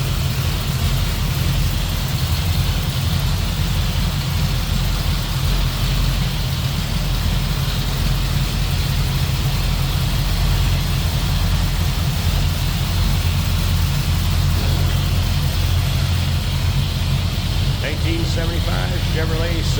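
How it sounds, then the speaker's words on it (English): A 1975 Chevrolet Silverado 4x4's 350 small-block Chevy V8, fitted with headers and HEI ignition, idles with a steady, deep, even rumble throughout, and a voice talks over it. "That 350 small block Chev, power steering, power brakes, headers"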